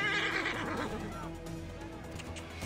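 Horse neighing in the Assassin's Creed Origins video game, a loud whinny that fades into quieter game ambience with faint hoof clatter.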